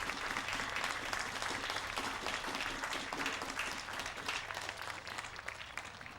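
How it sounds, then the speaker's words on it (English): A large audience at a Youth at the Pops Fourth of July concert applauds the color guard, a continuous thick roar of clapping heard from some distance, steady and then easing slightly toward the end. "Let's give a round of applause to the wonderful color guard"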